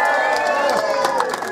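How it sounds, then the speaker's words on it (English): Audience cheering and clapping for performers at an exhibition in Limerick, a dense, lively crowd roar with scattered shouts, loud and steady, lasting under two seconds. "let's give them a big cheer"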